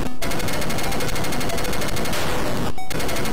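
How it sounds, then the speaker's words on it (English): Rapid machine gun fire from the Atari XL/XE game Screaming Wings, a loud, steady stream of gritty 8-bit shots rattling almost continuously, with two brief gaps near the start and end. "like the machine gun sound pretty good"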